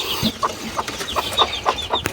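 Chickens cluck softly in short, scattered calls, with faint pecking and rustling around them.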